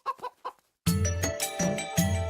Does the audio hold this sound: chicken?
yes